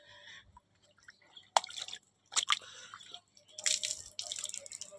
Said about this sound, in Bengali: নিয়ে এই যে স্পঞ্জ বাইরে আমি পানিগুলো ফেলে দিচ্ছি আমি।